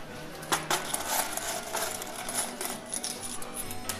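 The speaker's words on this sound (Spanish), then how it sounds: "Voy a sacar las monedas que me he ganado" Coins pour and clatter out of a coin pusher arcade machine, a dense run of bright metallic jingles and clinks, close and continuous with no speech.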